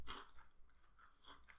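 Someone chews a Cadbury Crunchie honeycomb chocolate bar close to the microphone, giving a few quiet crunchy bites and soft mouth sounds in a short burst.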